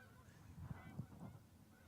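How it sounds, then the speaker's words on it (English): Geese honking at night as they pass overhead, a few faint, low calls spread across a couple of seconds against a quiet outdoor background. "hear those ducks? Or wow, Geese."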